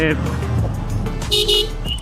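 A car horn honks on the Dhaka–Chittagong highway, a short toot near the start and a louder, longer blast toward the end, with someone talking over steady road and engine noise.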